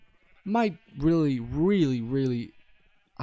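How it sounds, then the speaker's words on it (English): Sheep in Minecraft bleat twice, a short call followed by a longer wavering one, close and clear with nothing else behind them. "If we go inside, we still have all these sheep."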